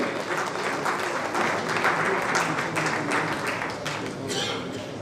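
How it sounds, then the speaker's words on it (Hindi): Steady, dense applause from a large audience at a Rajasthan government education event marking an MOU exchange, holding even and loud for about five seconds with no talk over it. "जोरदार तालियां हो जाएं श्री अविचल चतुर्वेदी जी के लिए"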